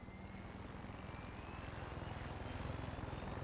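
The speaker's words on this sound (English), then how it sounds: "trying to keep your bloody crosshair level with that flipping helicopter constantly floating around is a nightmare." A helicopter circles overhead in the video game Far Cry 6, a continuous pulsing rotor thrum with steady engine drone, moderately loud and rising slightly, with no talk over it.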